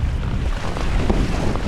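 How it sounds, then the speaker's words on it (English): A gusty westerly wind blows hard across the microphone out on the water while windsurfing, giving a loud, rough buffeting roar for a brief stretch with no speech. "This westerly wind, a big factor in windsurfing is the wind, and the wind is wildly on and off."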